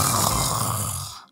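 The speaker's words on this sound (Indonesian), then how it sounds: "Dia ngorok." A sleeping person snores in one loud, rough, rumbling breath that fades out at the end. It sounds close and is heard alone in a comedic school skit.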